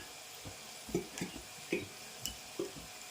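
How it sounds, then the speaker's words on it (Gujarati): Spicy thepla flatbread fries quietly in a pan, soft sizzling broken by a handful of small irregular clicks and taps from utensils, faint and without speech. "તીખા થેપલા તળવા મળ્યા છે."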